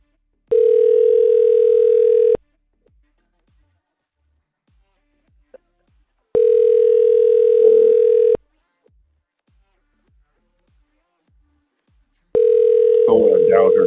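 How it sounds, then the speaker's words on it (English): Telephone dial tone in three steady bursts of about two seconds each, separated by silence, while calling a number; a faint voice sounds beneath the final burst. "when I dialed her number on the call"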